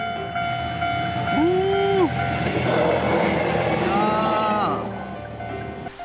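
A Yakumo limited express train roars past close by in Shimane, Japan, with a swelling rumble and brief horn-like tones, while a voice exclaims once in surprise.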